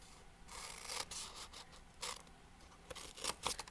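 Child's scissors snipping paper for a Kwanzaa craft, a series of short crisp cuts close by in an irregular rhythm, with no voices.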